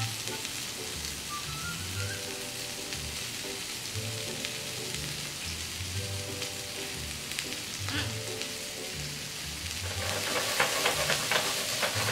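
Onions and tri-colour peppers sizzle steadily in a small pan, a continuous crackling hiss with faint background clatter, growing a bit louder toward the end.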